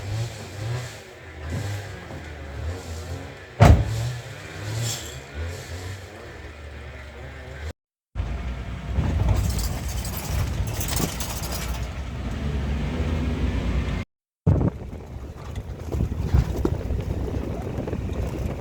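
A safari vehicle drives along on a game drive through a Big 5 game reserve in Africa, its engine droning steadily and fairly loud, with two brief breaks in the sound.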